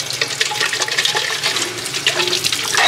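Water pours from a one-liter bottle to rinse a pot of plants: a continuous close, splashy gush with bubbly trickling, steady for about three seconds with no talking.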